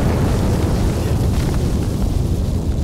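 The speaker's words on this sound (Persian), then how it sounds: "با توپ بهشون شلیک کنید." Cannon fire in a battle scene from a war film: a dense, heavy roar and rumble of explosion holds loud and unbroken for a few seconds, with no voices.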